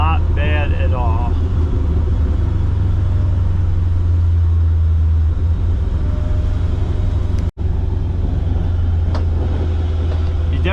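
A Camaro's engine hums steadily at about 2,000 RPM while driving, a constant deep drone, with a person talking over it.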